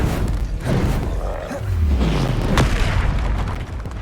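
Confringo explosion spell in the video game Hogwarts Legacy, a loud booming blast with deep rumbling roar and a sweeping whoosh, dense and continuous throughout.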